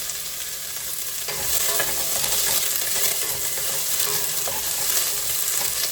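Onion fries in a pan for congee, a constant bright sizzle with repeated scraping strokes of stirring, close and loud throughout, with no speech.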